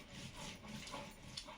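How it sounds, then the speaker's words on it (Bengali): Onion being ground into paste on a grinding stone while preparing a Bengali hilsa fish curry: a steady, faint rasping rub of stone against stone, continuous throughout with no voices. "এবারে পেঁয়াজ বেটে নিচ্ছি।"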